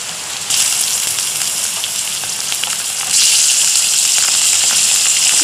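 Chicken frying with onions in a hot pan, a steady loud sizzle and crackle that swells stronger partway through, close up with no talking.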